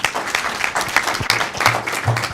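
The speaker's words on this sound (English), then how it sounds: "Can we give Mark a round of applause?" An audience at a monthly board meeting breaks into a round of applause, with scattered, uneven claps building into a moderate, close burst of clapping.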